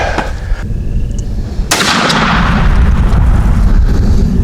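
A shotgun fires a TSS number 9 turkey load while the gun is being patterned, one sharp, very loud blast followed by a sustained rumbling wash of noise.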